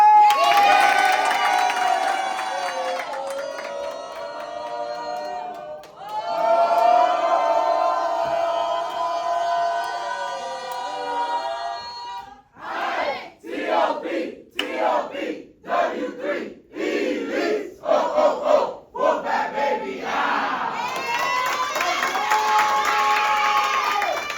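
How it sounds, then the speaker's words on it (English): A group cheers, whoops and claps for an award at a marketing team gathering, with loud bursts of shouting and applause broken by short pauses, rising again near the end. "Round of applause for the consistency of the month, Albert!"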